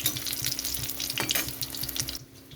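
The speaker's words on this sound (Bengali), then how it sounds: "তো এরকমভাবে ভাজতে হবে, গ্যাস কমিয়ে কমিয়ে, তা না হলে পুড়ে যাবে।" Battered chilli cabbage pieces fry in oil over low gas, a close, steady crackling sizzle with bursts of spatter, ending in a sudden drop.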